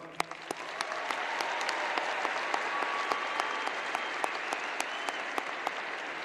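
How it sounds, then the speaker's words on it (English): Sustained applause from a large university commencement crowd at FSU's fall ceremony, a broad, even roar of clapping with distinct nearby claps popping out, swelling slightly then holding steady. "I want you to give a round of applause for those who put on this ceremony."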